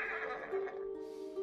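Horse neighing in the Ghost of Tsushima video game, a single drawn-out whinny with wavering pitch lasting over a second, clear and fairly close, with no talk over it.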